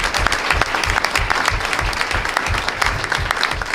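At a school board meeting, an audience gives a high school football player a round of applause. Steady, dense clapping fills the room throughout at close range.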